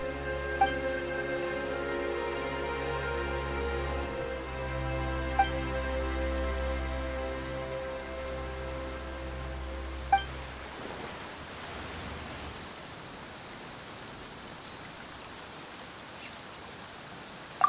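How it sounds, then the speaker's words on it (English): Rain starting suddenly in a fantasy video game, a steady broadband hiss of rainfall that sets in partway through, replacing tonal music, with a few faint chimes and no talk. "Why is it raining all of a sudden?"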